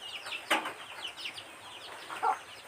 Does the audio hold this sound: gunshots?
no